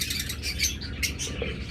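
Pairs of caged pet birds chirping together, a busy overlapping chorus of sharp high tweets close by, with light rustling and fluttering in between.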